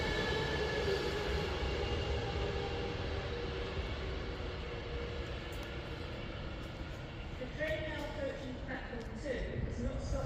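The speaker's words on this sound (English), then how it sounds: "There's two trains pulling in there, and then there's a freight train of some sort coming in through here" Trains arriving at Rugby station on the West Coast Main Line, two passenger trains pulling in while a freight train rolls through, giving a loud, continuous rumble and hum with squealing and tonal whines toward the end.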